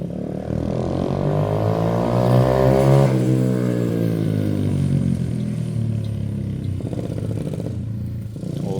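A motorcycle rides past after a chain adjustment, its engine rising in pitch as it approaches and falling away as it recedes, loud and close, with some rattle toward the end and no talk.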